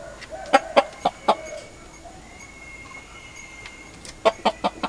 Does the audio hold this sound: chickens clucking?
yes